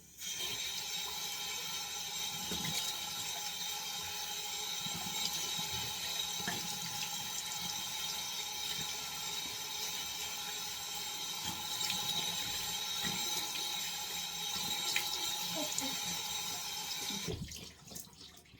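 Steady running tap water at a sink during face washing after a facial peeling, a continuous rushing flow that holds evenly for most of the stretch before cutting off near the end.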